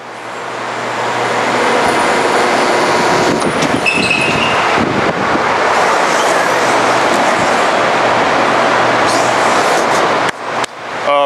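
A large Model 2054 bandsaw with a brake motor runs loud and steady, a dense broadband roar, until the drive cuts off near the end and the blade stops abruptly, leaving a brief fading rattle.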